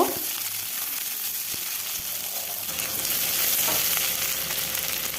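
Cut potatoes frying in a pan for a jhinge-aloo fish curry, giving a constant dense sizzle that swells louder partway through, close and with no talk.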